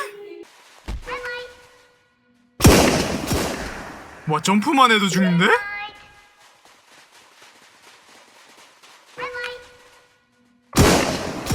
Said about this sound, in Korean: 총소리 개빡센 것봐